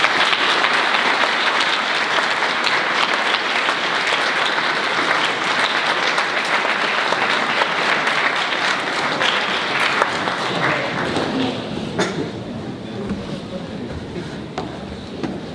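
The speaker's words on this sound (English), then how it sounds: "Please give a big round of applause to Daniel Damani." A school speech day awards ceremony audience claps for a long stretch, a broad, even roar of hands that stays steady before thinning and fading slightly near the end.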